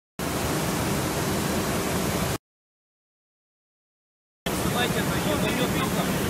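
Floodwater rushes through a river after rain as a loud, dense, steady roar, interrupted by a two-second gap of silence and then resuming just as strongly.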